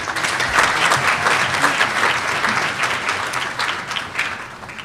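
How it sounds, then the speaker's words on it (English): Audience at a charity fundraising dinner in Slough applauding Lord Nazir: loud, steady clapping from a large crowd, continuous across the whole stretch. "Ladies and gentlemen, a massive round of applause for Lord Nazir."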